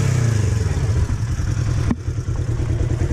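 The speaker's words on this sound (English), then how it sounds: "Polaris 1000, which you will not stop revving the engine." A Polaris RZR 1000 side-by-side engine revving close by on a trail ride, a loud continuous rough motor drone that dips sharply near the end before continuing.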